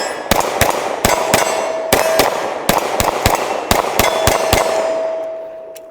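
Rapid 9mm shots from a Tisas PX-9 pistol striking steel targets, a string of sharp cracks with ringing metallic clangs that hang and overlap, fired in quick irregular bursts, loud and close.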